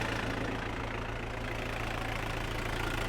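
A tractor engine runs steadily, working slightly hard while sowing winter grain and applying fertilizer in a field. It gives a continuous, close, low droning rumble with no speech.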